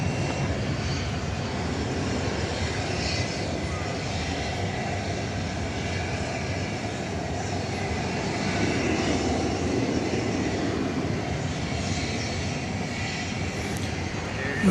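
An American Airlines Airbus A319 from 2000 lands at DFW airport, its jet engines a steady, broad roar at moderate distance that swells slightly near the end.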